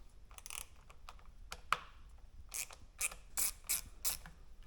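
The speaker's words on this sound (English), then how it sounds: "first thing we're going to do is take apart this housing. This is a T8 Torx." A T8 Torx driver backs tiny screws out of an Indian Scout motorcycle housing, making faint, close, ratcheting clicks in short bursts with small pauses between them.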